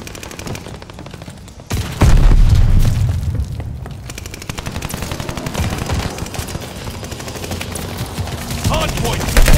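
Rapid automatic gunfire and heavy bursts from a Call of Duty: Vanguard hardpoint match fill the mix, loud and continuous with booming impacts layered over dense shooting.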